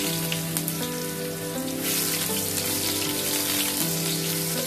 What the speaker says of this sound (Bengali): পেঁয়াজটাকে আমি বেশিক্ষণ ভেজে দিব না, হালকা করেই ভেজে নেব